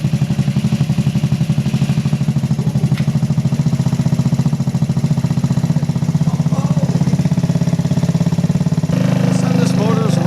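A small engine on a wrecked go-kart runs for the first time in years, a fast steady chugging and clattering idle held throughout, close and loud, with a brief change and some voices near the end.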